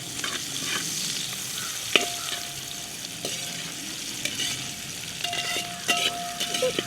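Onion with red, yellow and green capsicum stir-fries in a pan, giving a steady sizzle under sharp, irregular clicks of a spatula stirring close by.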